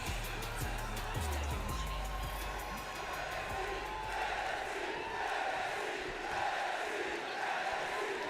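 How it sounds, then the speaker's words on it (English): Virtual arena crowd in WWE 2K's NXT show, a continuous roar of cheering and chanting at moderate level with some low thumps early on, sustained throughout without a clear break. "This crowd is just as hot as they were at the beginning of the night."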